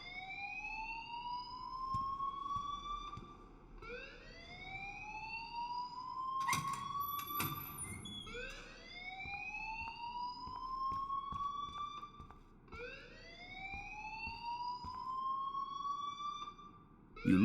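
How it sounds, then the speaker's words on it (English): Repeating rising electronic alarm tone in the video game Life is Strange, sweeping upward in steady cycles about every two seconds, loud and continuous with a few sharp clatters partway through. "please turn off that alarm since that's your job"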